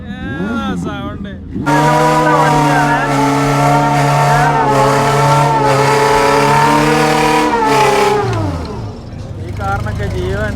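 A heavily modified, worn-out vintage car at the Riga Moto Show roars as its engine revs, a loud sustained drone rising and falling over several seconds before dropping off, with voices heard at the start and end.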